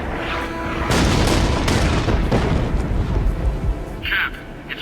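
Artillery barrage in the video game Captain America: Super Soldier: heavy, booming blasts follow in quick succession over a few seconds, loud and close, with rumbling tails between hits.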